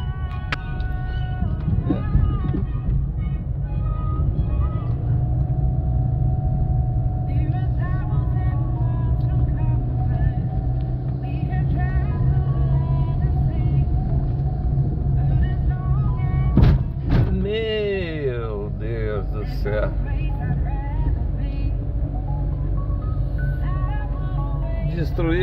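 A car rolls along a rough, potholed road, its engine and tyre rumble steady and close, with a few dull thumps from the wheels over the holes and a short squeal partway through.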